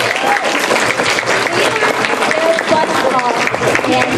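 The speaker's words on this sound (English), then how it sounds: "round of applause for the staff members" Audience at a voice actor roundtable panel breaks into steady, loud applause, a dense wash of clapping that fills the room throughout with some cheering mixed in.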